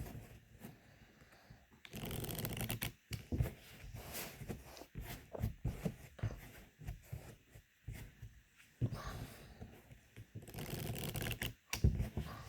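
Unsleeved Keyforge cards riffle shuffled by hand, close up, in repeated bursts of rapid fluttering clicks separated by short pauses and squared-up taps.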